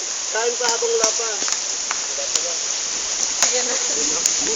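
Heavy rain hisses steadily outdoors, a dense wash of noise, while people gathering duhat fruit talk intermittently over it and sharp clicks or taps break through.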